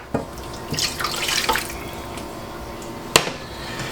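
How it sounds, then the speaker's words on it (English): Water splashes and trickles into a container in short bursts, close by, as a cup of water is poured for making dill pickles, with a light clink near the end; no one speaks. "We've got 1 cup of water I'm going to add."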